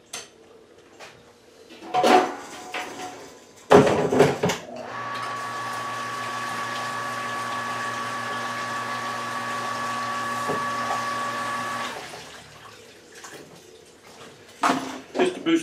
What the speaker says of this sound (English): So I'm going to just put just a hair of hot water in.